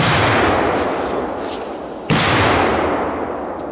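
Polish firecrackers set off outdoors, two loud blasts: one at the start and a sharper, nearer bang midway, each followed by a long rumbling roll.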